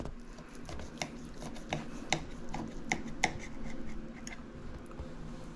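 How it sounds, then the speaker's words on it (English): A knife cuts through a stuffed eggplant, giving a series of irregular close crisp ticks and soft squishy taps over a quiet room background. "Let me just slice it in half here."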